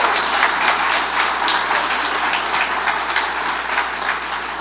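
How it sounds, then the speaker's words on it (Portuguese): Church congregation applauding a couple celebrating ten years of marriage during a Mass, a steady, moderately loud wash of clapping that holds evenly throughout with a faint low hum beneath. "vamos dar uma salva de palmas bem forte para eles"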